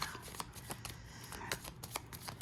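A deck of tarot cards is cut and handled, giving soft papery flicks and slides that come in a quiet, irregular series of brief rustles.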